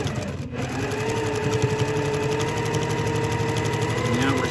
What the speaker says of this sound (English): Now we're stitching around and I'm going all the way down to that point where I started.